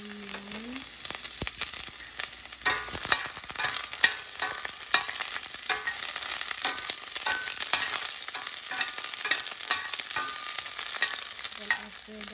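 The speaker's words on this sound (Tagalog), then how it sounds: "When the pan is too hot, I'm gonna put first the" Onion fries and sizzles in a hot pan while being stirred, a constant close crackling hiss broken by repeated scraping strokes of the spatula, with no talk.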